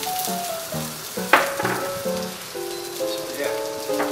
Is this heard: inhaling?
no